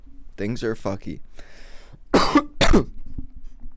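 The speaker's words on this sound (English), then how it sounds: "I'm sorry to cough into the mic." Someone speaks briefly, then coughs twice, loud and close to the microphone, with a muffled breathy sound in between.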